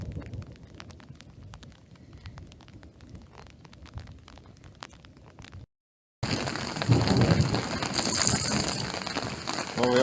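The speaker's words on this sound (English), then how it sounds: "we are going through a decent thunder and lightning storm. Absolutely hammering it down." Heavy rain pounds down during a thunder and lightning storm while wild camping on an ancient Iron Age hillfort, a steady close downpour that cuts out briefly and then returns louder, with low rumbling under the hiss.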